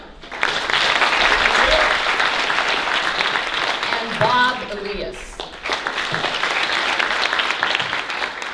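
An audience at a Tucson Ward One candidates forum claps loudly and steadily for nearly the whole stretch, with a brief dip where a voice announces a name over the applause before the clapping swells again.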